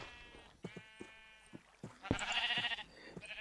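Sheep in the game Minecraft bleat several times in short, nasal calls, ending in one louder, longer bleat near the close, with quiet gaps between them.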